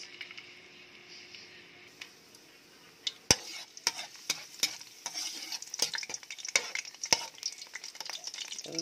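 Ingredients drop into hot cooking oil in a pan while cooking guisado pancit canton: quiet at first, then a bright sizzle begins, and clattering stirs and scrapes rise over it, close and loud.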